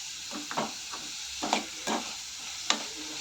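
Onions frying for egg bhurji gravy, with a soft steady sizzle under repeated scraping stirs of a spatula in the pan, several distinct strokes spaced irregularly, close and moderately quiet.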